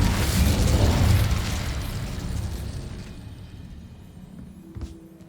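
Incendio fire spell in Hogwarts Legacy bursts out with a loud whooshing roar that swells for about a second and then dies into a fading, crackling rumble.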